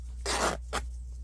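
Paper is torn by hand for a junk journal cover, two quick close rips, the first longer and the second a short tear, in a quiet room.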